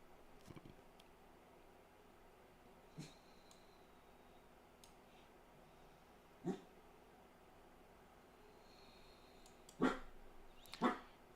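A dog gives a few short, scattered barks, faint and somewhat distant, over a quiet indoor background with long gaps between them.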